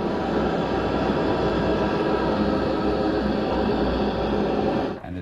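A layered, processed creature effect built for the bats in Alan Wake, a dense continuous roaring wash that holds steady and loud throughout, then cuts off abruptly near the end.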